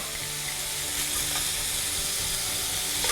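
Lamb pieces brown in a hot pan with a continuous, even sizzle and frying crackle, close and steady throughout, with no talk.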